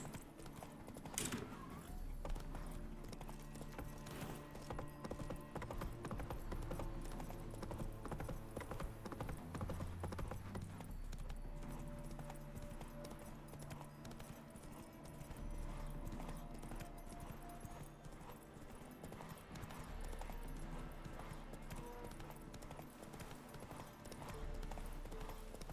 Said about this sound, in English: That's it, Roach.